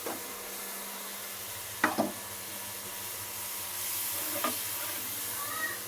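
Eggs fry in a pan with a steady close sizzle, as a utensil stirs and scrapes them in a few sharp strokes; faint voices sit in the background.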